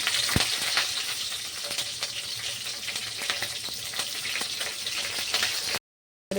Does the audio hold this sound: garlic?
yes